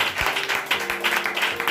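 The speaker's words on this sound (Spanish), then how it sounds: "Denle un aplauso fuerte al Señor" A church congregation claps for God during a Spanish-language sermon, a dense, continuous patter of many hands with a steady rhythm, moderately loud, with faint organ or keyboard tones sustained underneath.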